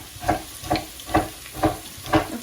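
Onions and small pieces of bay leaf frying in a pan, with a steady soft sizzle broken by five evenly spaced scraping stirs that come through close and clear.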